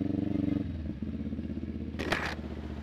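A motorcycle with no silencer idles loudly close by, its engine putting out a rough, rapid, throbbing rumble, with a brief burst of hiss partway through.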